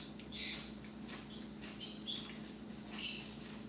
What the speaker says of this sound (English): Do you think the birds get noisy because they hear us talking over here or something?